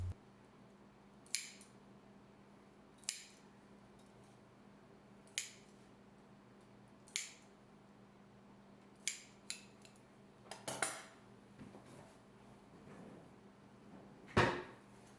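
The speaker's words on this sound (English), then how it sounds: "Next, I'll score the dough with the scissors." Kitchen scissors snip into no-knead rosemary bread dough, giving about a dozen sharp, close clicks spaced a second or two apart over a quiet room, ending with a louder clatter.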